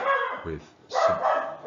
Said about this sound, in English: sorry about the dog bark